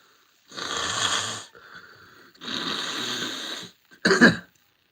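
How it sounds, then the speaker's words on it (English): Two long, forceful nose blows with a brief snort after, close and loud, with short quiet gaps between. "Trying to blow my nose, not trying to disgust everybody."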